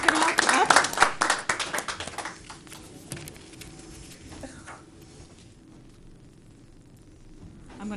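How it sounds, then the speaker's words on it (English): A short burst of audience clapping at a school board meeting, loud and close for about two seconds, then thinning out and fading into quiet room noise with scattered small sounds. "Big round of applause for them,"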